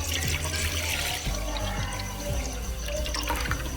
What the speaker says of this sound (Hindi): 1 कढ़ाई ली है, अब हम इसमें डालेंगे 2 गिलास पानी